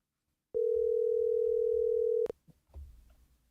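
A telephone dial tone sounds while a talk show host calls a guest, a steady, loud pure tone lasting under two seconds that cuts off with a click, followed by faint handling noise.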